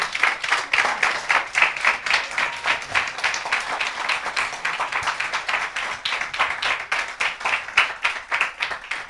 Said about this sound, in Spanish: ¿Cuánto aplauden al Señor por eso?